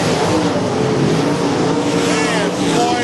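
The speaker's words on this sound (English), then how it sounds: "Listen to Boyd's motor coming down at turn 4." Car number 30's dirt track race car engine at I-55 Raceway roaring steadily at high revs coming down through turn 4, loud and continuous under a commentator's voice.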